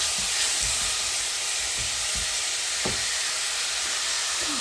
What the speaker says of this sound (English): So while the onions are cooking